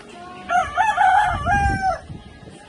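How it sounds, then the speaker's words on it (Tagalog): A rooster crows once, a loud drawn-out cock-a-doodle-doo lasting over a second, with low background rumble. "Ayan, mga manok."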